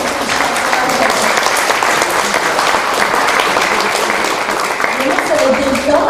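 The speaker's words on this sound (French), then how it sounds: "on peut l'applaudir" A theatre audience at a small Italian-style theatre in Guéret applauds Marcel with a loud, dense, continuous burst of clapping that holds steady throughout, with voices faintly underneath.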